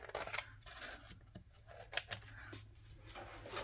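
Scissors snip through stamped paper, a close, quiet series of irregular crisp cuts and paper rustles with no talking.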